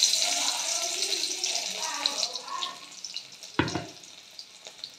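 Dried red chillies and garlic dropped into hot oil in a pan, a bright hissing sizzle that is loud at first and then settles into fainter crackles, with a sharp clatter partway through.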